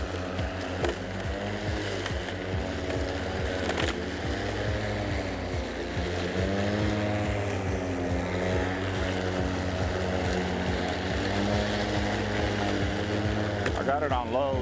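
A Ryobi 40-volt, 20-inch battery electric lawn mower set to low, running across grass on a small lawn, giving a steady, continuous motor whir with a spinning-blade hum throughout.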